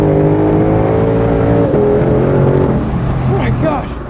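A base-model 2020 Ford Shelby GT500 on a racetrack holds a loud, steady engine drone under throttle that fades in its final moments, while someone talks over it.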